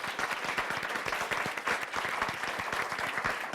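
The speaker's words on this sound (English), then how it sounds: "if we want to give a applause to the panelists" Audience applause for a panel of speakers at the close of a discussion event, dense steady clapping from many hands throughout, fairly distant and even in level.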